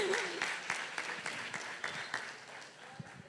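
Church congregation clapping together at a harvest festival service, a steady wash of many hands applauding with a few louder individual claps standing out, moderately close and continuous throughout with no talking over it.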